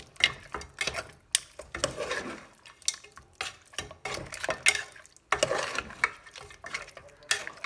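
A spoon stirs mutton curry with kasturi methi in a pot, making close, irregular scraping and clinking against the metal in uneven bursts, with no talking.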